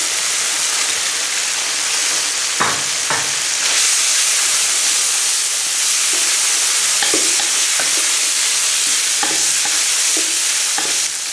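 Dried tofu stir-fried in a wok with hotpot seasoning, spring onion, ginger and garlic gives a loud, constant sizzle close up, with scattered scrapes and clacks of a spatula stirring through it.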